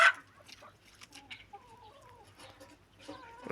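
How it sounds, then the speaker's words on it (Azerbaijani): A large black hen clucks softly nearby in a poultry yard, a few short calls rising over quiet background, with a louder rustle at the start and end. "Bu qara toyuq, yekə qara toyuq."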